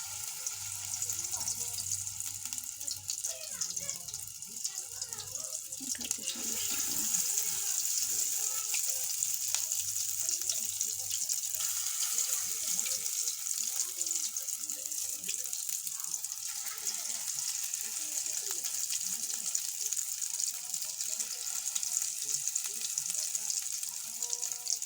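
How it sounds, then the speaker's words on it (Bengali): Fish roe pakoras frying in hot oil give off a steady, dense sizzling hiss that swells slightly after the first few seconds and holds for the rest of the stretch, with faint background murmur underneath. "এখন আমি ভেজে নেব।"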